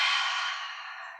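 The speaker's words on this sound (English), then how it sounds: "Nice deep inhale." A deep breath drawn in on a yoga mat during a flow session, a smooth breathy rush that starts strong and tapers off over about a second, close and alone.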